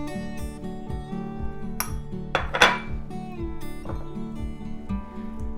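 Chopped dates are stirred into gajar ka halwa in a metal pan, a spoon scraping and clinking against the pan in a steady rhythm of repeated strokes, with one sharper clatter midway, close and clear.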